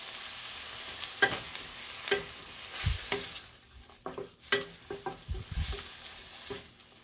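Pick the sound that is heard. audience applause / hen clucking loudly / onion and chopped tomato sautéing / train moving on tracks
onion and chopped tomato sautéing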